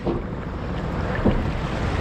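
A motor boat runs at sea during a max-speed trial, a loud, steady engine drone blending with rushing wind and water noise throughout.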